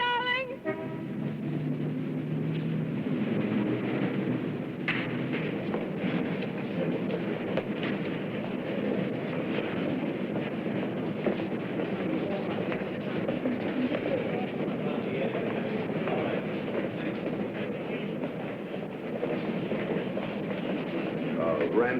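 A train rolling steadily along rails in 1950s New York, a continuous low rumble and rattle of railroad cars that stays fairly loud and even throughout, with no clear voices.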